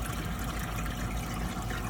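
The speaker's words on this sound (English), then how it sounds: "When the water hits that sensor, it starts to come" Steady water rushing and trickling over the evaporator of a Manitowoc ice maker, a dense continuous wash of flow heard up close with no talk.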